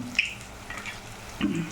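Onions fry in oil in a pan for vermicelli upma: a soft, steady sizzle with a couple of brief scraping stirs, close and fairly quiet, no voices.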